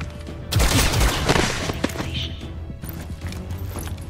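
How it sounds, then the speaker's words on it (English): A gunshot volley in the video game XCOM: Chimera Squad: a sudden loud burst of shots and impacts that then fades into quieter thuds and debris. "I think I'm just going to shoot him."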